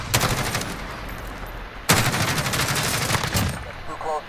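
Rapid automatic gunfire in Call of Duty Modern Warfare during a team deathmatch, two loud bursts of close shots with a sharp restart midway, a faint voice underneath.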